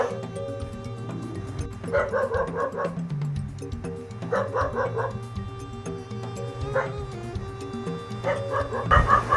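Dog barking in short bursts, several spaced volleys of yips and barks at a rural home near a forest with bears, leopards and elephants, over a steady low background hum.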